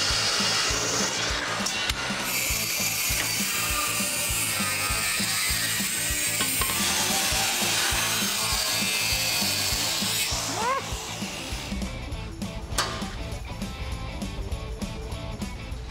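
A wooden board gets a shallow-angle miter cut during a GMC Suburban build, with steady rasping and grinding that runs loud and near for most of the stretch, then eases slightly near the end.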